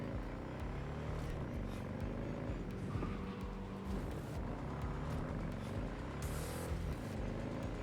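A car in the video game Cyberpunk drives along with a steady, low engine drone and road rumble at moderate level, with faint clicks and higher bursts over it.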